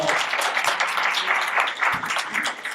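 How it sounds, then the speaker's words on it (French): An audience at a philosophy talk applauds a guest, a steady patter of clapping throughout with some faint voices mixed in. "on peut l'applaudir"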